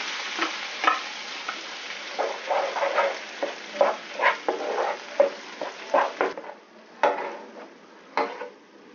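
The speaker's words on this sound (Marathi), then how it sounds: "आपण गरम केलेला मागाशी जो कांदा होता मसाला तो मसाला आपल्या त्याच्यामध्ये फ्राय करून घ्यायचा" Onion masala frying in a pan for homemade mutton rassa, a close crackling sizzle broken by repeated scraping strokes of a spatula in uneven rhythm, growing sparser toward the end.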